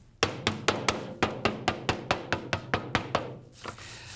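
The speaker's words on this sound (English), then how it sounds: "put a cloth on top before you hammer it shut" A steady run of about a dozen sharp hammer strikes on a cloth-covered paint can lid, evenly paced and close, each ringing briefly before the next, then a softer rustle at the end.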